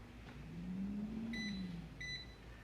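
An air fryer starts up to cook a potato, giving a faint low hum that rises and falls, followed by two short electronic beeps as it is set. The sound is quiet, close and has no talking.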